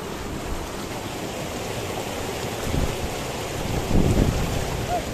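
Mountain stream water rushing steadily among rocks on the rough Gomukh trek trail, a dense continuous wash close by, swelling slightly toward the end, with no talking.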